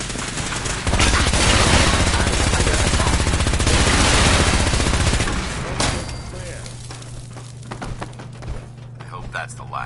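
Fallout 4 video game gunfire rings out as dense, rapid bursts of shots, loud and close for several seconds, then thins into scattered distant shots while voices speak over the fighting.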